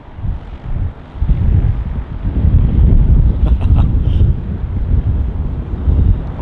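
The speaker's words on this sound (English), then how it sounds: "It's getting a bit windy now, isn't it?" Strong wind buffets an outdoor spot at Manchester Airport, a loud, steady low roar with gusts that swell and ease throughout and no voices.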